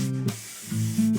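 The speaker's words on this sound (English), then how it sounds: "then I can spray paint the other side" A spray paint can hisses in short bursts at close range while painting the neck of a guitar, with a low steady hum running underneath.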